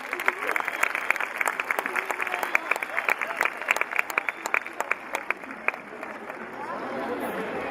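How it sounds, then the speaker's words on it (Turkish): An audience at a Bayrampaşa municipal evening event applauds federation presidents with dense, rapid clapping. It tapers off as a host's voice carries over it near the end. "Bir büyük alkış onlar için"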